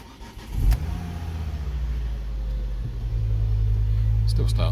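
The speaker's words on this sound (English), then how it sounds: "Still starts okay." A Ford Focus ST engine turns over and catches with a short crank, then settles into a steady, close idle rumble that grows a little louder near the end.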